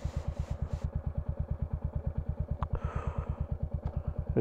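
A Royal Enfield Hunter 350 motorcycle runs on the road with a fuel warning light on, its single-cylinder engine thudding in a steady, even rhythm close by and fairly loud, with a brief clatter partway through.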